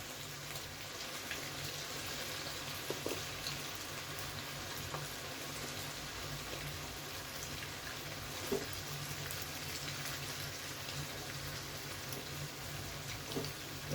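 Veg manchurian balls deep fry in a wok of oil over medium heat, a soft, continuous bubbling crackle with scattered pops, fairly faint and with no talking.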